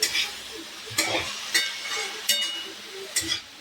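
Peanuts stirred into a dry fenugreek-leaf stir-fry in a pan, several scraping strokes at irregular intervals over a soft, steady sizzle, close and moderately quiet.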